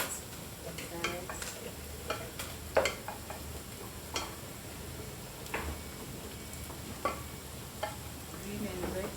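Vegetables being stir-fried for pancit, with a soft continuous sizzle broken by scattered clicks and scrapes of a utensil against the pan, fairly quiet and without talking.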